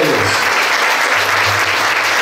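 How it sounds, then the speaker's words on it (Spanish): A church congregation breaks into dense, loud applause, a full wash of many hands clapping together for a couple of seconds without pause. "Déjenle un aplauso a los hombres, porque siempre le dan a las mujeres."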